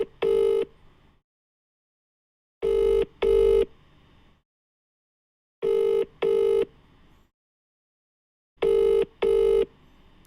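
Outgoing phone call ring tone pulsing in regular double bursts, four cycles with silent gaps between them, clear and close with no talking.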